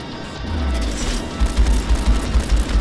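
Strike suit cannons firing in the space combat game Strike Suit Zero, a loud rapid stream of heavy bursts with deep booming low-end thuds pulsing in the second half.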